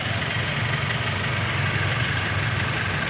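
A car engine idling while running on engine oil mixed with cooking oil, a steady close rumble with a faint knocking pulse and no talking.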